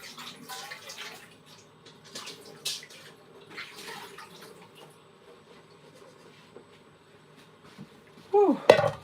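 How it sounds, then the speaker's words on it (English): A cooking pot being rinsed under a running tap, with intermittent splashing and trickling water and a louder clatter of the pot near the end, all close by. "Rinse up my pot"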